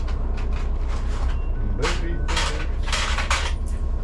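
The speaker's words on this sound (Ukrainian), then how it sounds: "двері всі зачиняємо" Doors of an Electron trolleybus close with several clattering bangs and hisses in quick succession, loud and close over a steady electric hum and cabin noise.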